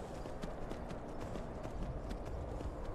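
A horse's hooves clip-clop in a quick, regular rhythm while it climbs a mountain in Skyrim, fairly faint and close, with no voices over it.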